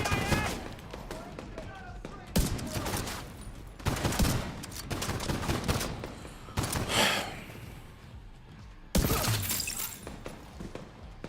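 Shotgun blasts in the shooter game The Division 2, several loud booming shots spaced a couple of seconds apart, each with a heavy crack and tail, set against busy combat noise with a voice speaking in between.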